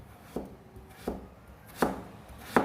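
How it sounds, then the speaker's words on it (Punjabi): A potato being finely sliced with a knife: four distinct knocks of the blade against a board, spaced and gradually louder, close and otherwise quiet. "ਆਲੂ ਨੂੰ ਵੀ ਅਸੀਂ ਬਰੀਕ ਕੱਟ ਲੈਨੇ ਆ ਪਤਲਾ ਪਤਲਾ ਆਲੂ ਨੂੰ ਕੱਟ ਲਾਂ"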